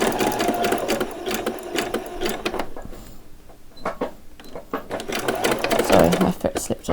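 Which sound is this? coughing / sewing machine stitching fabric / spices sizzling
sewing machine stitching fabric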